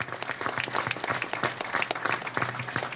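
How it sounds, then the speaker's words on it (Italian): A crowd at an outdoor ceremony lighting artistic street lights in Tropea claps steadily. The applause is dense, close and sustained throughout, with no clear voices standing out. "Facciamo che un applauso ancora, sempre bello,"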